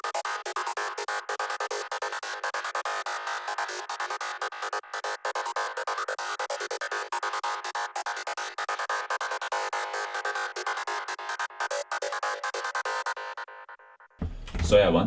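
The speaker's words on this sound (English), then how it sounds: "Today we're gonna do an FM style lead that you can use on your full-on Psytrance songs using Serum" Chaotic full-on psytrance FM lead synth built in Serum, playing a dense, continuous buzzing line with rapid stuttering gaps, loud and steady throughout before cutting off near the end into a brief different sound.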